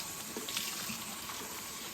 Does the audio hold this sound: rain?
no